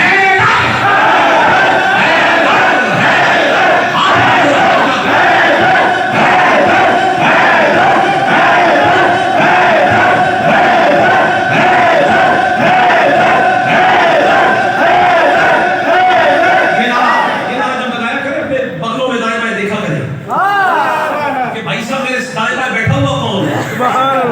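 A large crowd loudly chants a religious slogan for Haidar in unison, with rhythmic repeated shouts and yells that fill the space, giving way near the end to scattered voices.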